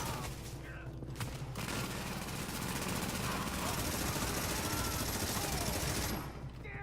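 Rapid automatic fire from a Tommy Gun with hip-fire in The Division, a dense sustained burst of gunfire filling most of the clip, loud and close, with brief game effects at the start and a quieter tail.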